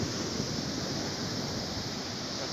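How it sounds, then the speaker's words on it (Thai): Strong ocean waves crash at a beach in Phuket, a loud, steady broadband roar of surf with no break, mixed with wind noise on the microphone. "คลื่นมันแรงยิ่งเอง"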